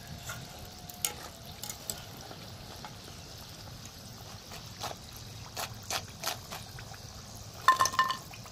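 A bread-based snack fries in a pan with a faint, low sizzle, broken by scattered sharp clicks and scrapes from a utensil against the pan, louder near the end.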